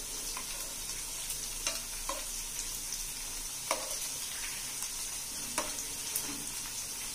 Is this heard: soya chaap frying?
yes